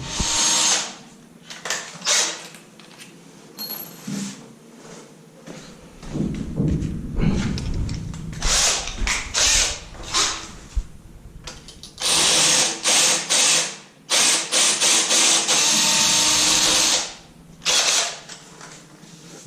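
A power drill whirs in several bursts into a wall for mounting a cabinet, with pauses between runs and some knocking and handling noise, close by.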